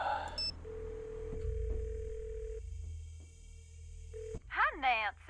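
In the Nancy Drew game Ghost of Thornton Hall, a telephone is dialed: a few quick keypad tones, then a steady dial tone broken by short clicks, ending as a voice begins.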